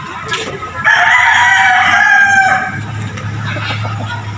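A fighting rooster crows once, loud and close, a drawn-out call lasting a couple of seconds amid faint background noise.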